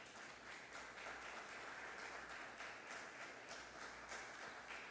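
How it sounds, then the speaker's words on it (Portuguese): A church congregation applauds, a very faint, distant wash of clapping with soft rhythmic pulses running under low room noise. "Você pode dar uma salva de palmas a Deus?"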